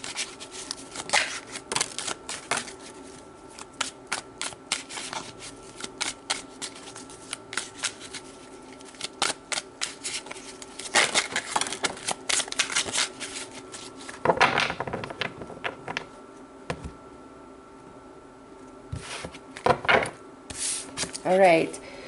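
Tarot cards are shuffled by hand in a long run of crisp riffling and flicking, close and fairly soft, with rhythmic bursts and brief pauses between handfuls.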